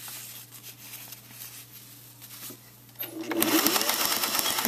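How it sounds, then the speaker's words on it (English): Sewing machine running a regular stitch along folded piping seams, starting at about three seconds with a loud, fast, steady mechanical chatter after a quiet stretch with a low hum. "And with a regular stitch, stitch them together."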